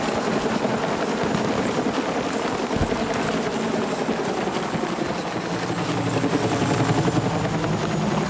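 A helicopter in the video game Battlefield 6 makes a steady, loud rotor and engine drone. The sound holds constant throughout, dense and close, with no voices.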